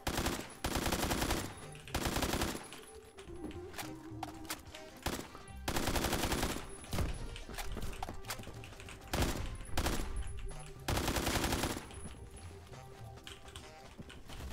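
Rapid automatic gunfire in the Roblox video game, with long loud bursts of dense shots broken by short pauses and some quieter clicking between them.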